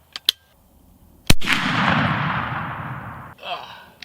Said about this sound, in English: But fellas, we gotta start the shooting.